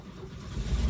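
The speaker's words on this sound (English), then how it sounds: "Ooh, listen to that engine purr." A car engine turns over and settles into a low, steady purring rumble that builds slightly, heard close and moderately quiet.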